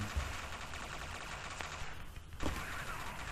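Machine gun fire in the shooter game HEADSHOT, a loud, sustained rattling burst of rapid shots with a brief dip partway through before the firing resumes at full strength.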